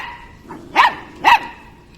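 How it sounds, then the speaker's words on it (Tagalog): Gracia the dog lets out two sharp, loud barks about half a second apart, close by, over a low background hum. "Si Gracia, panay tahol lang"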